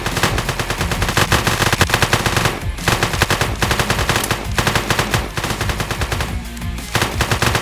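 Sustained automatic gunfire from the video game One-armed Robber, dense rapid bursts of machine-gun fire with brief pauses, loud and continuous throughout.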